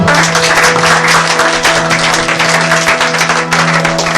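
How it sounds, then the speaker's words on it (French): Church congregation at a French-language anointing service applauding and acclaiming, loud continuous clapping with a steady tonal hum underneath, voices blended into the sustained ovation. "Ton acclamation est timide ce matin."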